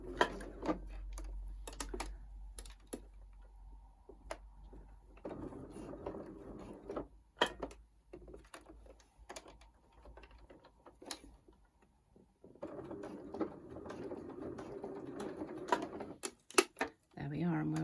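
A sewing machine with an invisible zipper foot stitching in a zipper, mechanical ticking and whirring in runs that stop and start, quiet, with a voice talking over parts of it.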